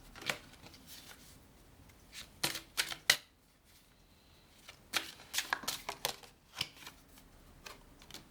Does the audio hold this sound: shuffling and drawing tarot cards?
yes